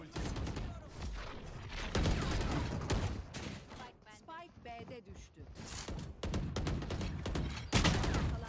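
Rapid gunfire and bursts in a tactical shooter match of Valorant, loud close volleys filling the stretch with brief gaps, under excited voices talking.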